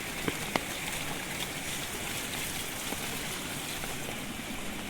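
A river swollen by heavy monsoon rain in Kumbhavade, Rajapur, in the Konkan, rushes past as a dense, even roar of flowing water with a few faint splashes.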